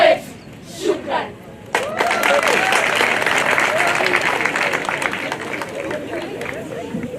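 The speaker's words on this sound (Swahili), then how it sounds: "Makofi mazuri tafadhali" An audience at an International Albinism Awareness Day event breaks into applause after a few brief voices. The clapping swells suddenly into a dense, sustained crowd ovation mixed with cheering, then fades slightly toward the end.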